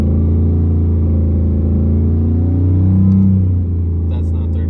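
Single-turbo 2018 Mustang GT engine held at a steady loud rumble, its pitch climbing briefly as it revs toward 3,500 rpm and then settling back to idle, with voices faintly under it.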